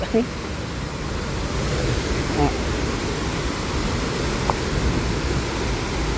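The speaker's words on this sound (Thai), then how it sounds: "ผมเพิ่งมาถึงน้ำตกเหวสุวัต" Steady, broadband rush of falling water at Huai Suwat waterfall, constant and fairly close, with a faint brief voice or two near the start.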